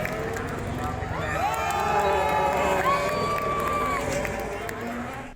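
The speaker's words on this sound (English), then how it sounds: "you can really hear the difference in the crowd" Spectators cheering at the Imola circuit during an F1 sprint race, a broad sustained crowd roar with whistles and shouts rising through the middle, heard from within the grandstand crowd.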